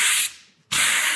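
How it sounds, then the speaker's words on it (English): Two loud strokes of 60 grit sandpaper on a handheld sanding grip rub harshly against a surface, separated by a short pause, close and alone. "I've got my 60 grit sandpaper on this wonderful sanding grip"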